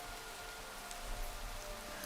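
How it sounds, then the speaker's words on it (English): Steady rain in the Minecraft video game, a dense even hiss of falling drops that runs unbroken from start to finish at a moderate, soft level with no talking. "It's raining"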